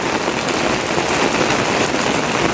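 Heavy cloudburst rain pouring steadily in Manegaon, Madha taluka, a dense, loud hiss of drops hitting surfaces with no pauses.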